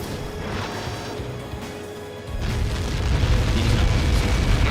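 A missile explosion in a video game campaign, a deep rumbling boom that swells and stays heavy and loud for a couple of seconds over ongoing game noise.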